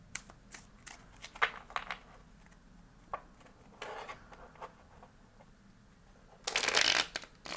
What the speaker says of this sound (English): Oop, that's shuffling.